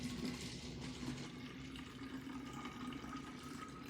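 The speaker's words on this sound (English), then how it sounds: "I'm going to add 8 ounces of apple cider vinegar into the bottle" Apple cider vinegar pours into a bottle as a soft, continuous liquid trickle, quiet and steady with no voices.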